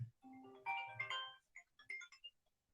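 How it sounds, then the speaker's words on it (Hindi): A phone ringtone for an incoming call plays as a short, faint electronic melody of bright tonal notes, a few quick phrases tapering away in a quiet room. "फोन कॉल आहे."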